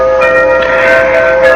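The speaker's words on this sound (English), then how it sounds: "Damn that grandfather clock." A grandfather clock chiming indoors, loud sustained bell-like tones ringing out with overlapping struck notes and a long resonant hum, no voices over it.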